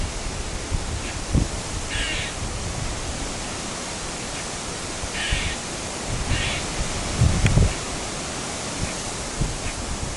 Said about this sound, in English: I've got a crying squirrel.